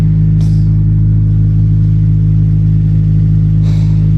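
A Honda Civic Type R EP3 engine idles close by with a loud, steady low drone and an even pulse, broken twice by short hissing bursts.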